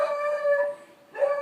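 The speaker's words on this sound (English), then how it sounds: "Sorry for the dog again." A dog howls in long, wavering cries indoors, a sustained wail that fades briefly and then rises again near the end, heard alone with no talking.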